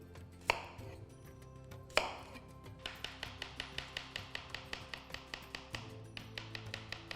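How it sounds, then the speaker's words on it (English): Onion being sliced thinly with an office knife on a cutting board, two heavier knocks and then a fast, even series of close, crisp taps as the blade strikes the board. "But as thin as you can slice, there goes the onion."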